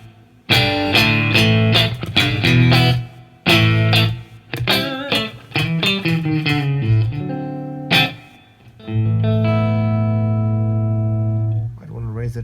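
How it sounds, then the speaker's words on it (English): Electric guitar played through a Line 6 POD HD500X using the '63 spring reverb model, several sustained chords and short picked phrases with lingering splashy reverb tails, loud and clear with pauses between strums. "I'm going to go for a 63 spring reverb."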